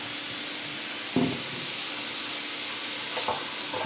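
Carrots sizzle steadily in a hot pan for Korean noodles, a continuous close frying hiss with a brief clatter of stirring near the start and another soft scrape later, no voices.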